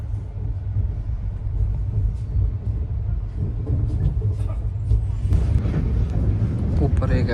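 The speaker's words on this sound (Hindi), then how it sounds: "ये डब्बा, ट्रेन चल रही है।" A train carriage rolling along rails in India on the way toward Ambala, a continuous close low rumble with a steady mechanical roar that grows slightly busier toward the end.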